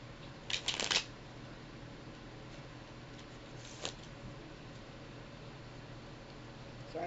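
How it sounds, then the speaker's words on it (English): Tarot cards shuffled slowly and quietly, a brief riffling burst near the start and a faint flick later, over a steady background hiss in a quiet room. "So I'm going to shuffle real slow tonight."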